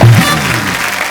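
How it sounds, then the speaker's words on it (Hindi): Studio audience applause on a comedy talk show, a dense wash of clapping filling the space, loud and sustained for about a second with no voices. "क्या बात है, जोरदार तालियां"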